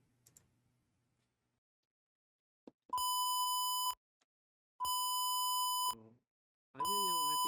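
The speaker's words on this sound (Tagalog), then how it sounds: "So, ayun yung ating buzzer pin at yung ating LED." A buzzer wired to an Arduino Uno on a breadboard gives three loud, pure, steady beeps about a second each, separated by silence, preceded by faint handling noise.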